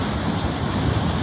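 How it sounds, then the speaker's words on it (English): A hail and lightning storm in Jamestown, New York, heard as a loud, dense wall of rumbling noise and pelting rain, low booming thunder blended underneath, continuous with no voices. "that thunder is so booming everywhere"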